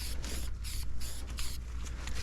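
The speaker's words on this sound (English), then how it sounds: "We could spray the silver one black." An aerosol spray paint can hisses in short repeated bursts onto weights, a few spray pulses separated by brief pauses, close by and fairly quiet.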